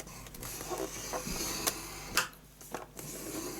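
Cardstock is scored on a scoring board for a handmade gift box lid, giving soft scraping strokes and a few sharp taps and clicks, close and fairly quiet.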